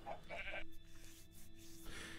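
Sheep bleating in the video game Minecraft, a couple of wavering, nasal bleats close by, followed by quieter game ambience with a steady tone underneath.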